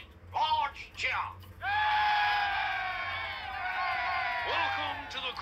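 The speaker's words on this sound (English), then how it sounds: "Large cheer!" A large crowd of Muppet subjects at the coronation of King Rupert II raises a loud, sustained cheer that swells after a few short shouts and holds for several seconds before trailing off.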